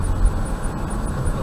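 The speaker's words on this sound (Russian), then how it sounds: "Самолет какой идет." An airplane passes overhead, heard as a steady broadband roar that holds level through the short stretch with no voices over it.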